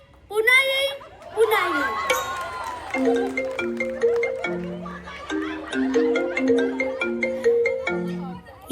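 A mobile phone ringtone plays a bright, stepped electronic melody of repeating tones, loud and close, on a stage during a Marathi comic play, with speech and audience chatter around it at the start.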